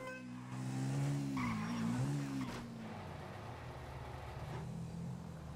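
A small engine revs and whines with a rising, wavering pitch, then drops to a lower steady drone, like a video-game scooter riding along.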